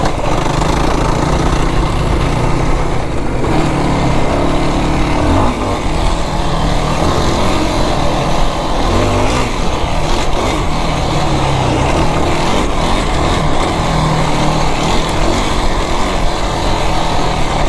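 A Kawasaki KFX 450r ATV engine roars steadily and loudly throughout a ride over off-camber whoops, its revs rising and falling in a constant, close, unbroken drone.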